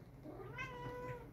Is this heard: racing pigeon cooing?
no